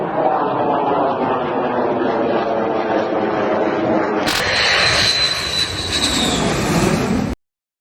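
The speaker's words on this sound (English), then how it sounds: "Here's the original video of the J-20 flying with 2 WS-15" A J-20 fighter jet with two WS-15 engines roars steadily as it flies past, a loud broad jet rush that turns harsher and more hissing partway through before cutting off abruptly.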